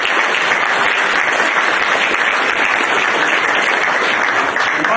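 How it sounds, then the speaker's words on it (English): A conference audience gives loud, steady applause for the day's speakers, a dense and even roar of many hands clapping throughout without voices. "So I'd like to give us a round of applause for all the speakers we had today."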